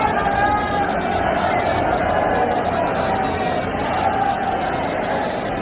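A dense crowd murmurs steadily at Shri Thakur Banke Bihari temple in Vrindavan, a continuous loud babble of many voices with no pause.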